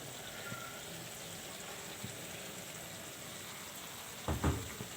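Runner beans and cabbage frying together in a pan, a steady soft sizzle at close range, broken near the end by a brief louder clatter or stir, with no voices heard.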